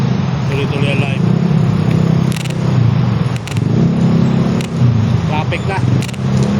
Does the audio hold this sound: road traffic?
yes